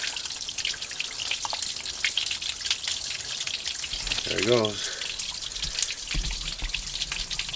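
Rusty coolant water drains from the rusted radiator of a Foxbody Mustang, a steady close splatter and drip onto a hard surface. Someone speaks briefly over it.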